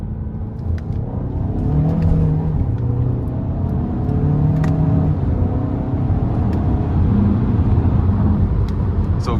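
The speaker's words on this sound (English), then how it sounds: "We'll give it some throttle here." A 2022 Kia Sorento SX Prestige with a 2.5-litre turbocharged four-cylinder and dual-clutch gearbox pulls hard under throttle, a loud steady engine drone with rising tones over road and cabin rumble, heard from inside the car.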